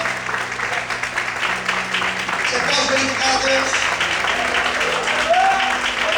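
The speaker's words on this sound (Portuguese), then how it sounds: "levanta a sua mão para o céu, glorifica e aplaude o Senhor nessa noite" A church congregation applauds during an evening worship service, sustained clapping under a preacher's voice calling out to the crowd.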